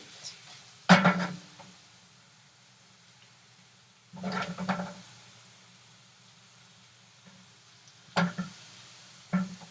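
Potatoes browning in a pan are tossed three times, each toss a short clattering swish of pan and food. Quiet gaps of faint sizzle fall between the tosses.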